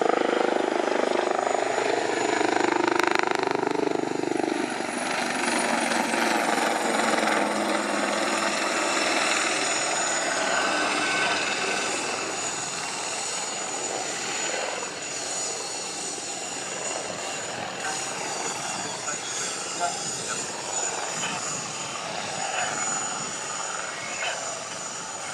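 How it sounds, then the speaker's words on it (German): AW Wildcat HMA2 helicopters of the Royal Navy Black Cats team flying a display at an air show, a loud steady rotor and turbine roar slowly fading and shifting as they turn overhead. "a good photo opportunity coming up now with a close break before the aircraft go into a flat turn"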